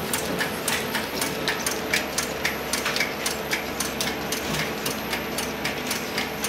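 A carton printing machine runs continuously with a rapid, even mechanical clatter and ticking over a steady hum, close and fairly loud, with no talking.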